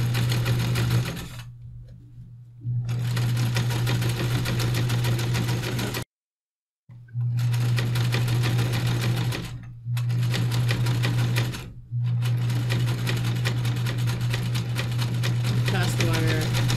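A sewing machine sews a pleated face mask across a wire nose piece with a loud, steady motor hum, running in several bursts separated by short pauses and one full stop.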